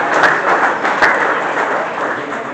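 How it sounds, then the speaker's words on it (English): Audience applause rings out at the Camo Cares charity event, a dense wash of clapping with a few sharper individual claps standing out. "great big round of applause for all of you folks that have all been part of our Camo Cares"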